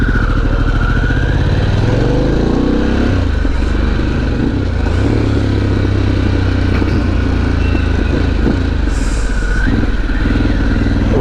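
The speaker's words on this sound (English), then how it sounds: "Pan Am definitely makes a little more noise." A Harley-Davidson Pan America motorcycle being ridden, its engine rumbling loudly and steadily up close throughout with slight revving changes and wind noise, no talk.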